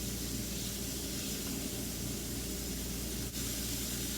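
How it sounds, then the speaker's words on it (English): Minute steak fries in a pan with a steady, loud, broadband hiss of sizzling fat that carries on without break and has one small dip near the end. "Just get a good fry on that steak."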